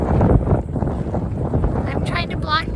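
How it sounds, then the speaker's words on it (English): Strong wind buffets an outdoor microphone at the Wright Brothers site in Kill Devil Hills, North Carolina, a steady low rumble throughout with a person talking over it. "I'm trying to block the wind right now."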